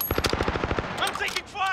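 Rapid bursts of automatic gunfire from a game firefight, a steady rhythmic string of shots in the first second, then scattered sharper cracks and a rising mechanical whine, all loud and close.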